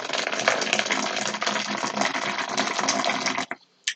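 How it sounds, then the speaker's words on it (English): Hot water pours steadily into a measuring jug for couscous, a close, continuous splashing gush that rises in tone as it fills, then stops with a few last drips. "I'm going to measure the amount of hot water."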